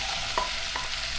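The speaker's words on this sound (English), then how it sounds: "If my butter is ready, I put my carrots in there already." Carrots sizzling in a pan of melted butter, a soft continuous frying hiss with a couple of faint stirring clicks, quiet and close, with no voices.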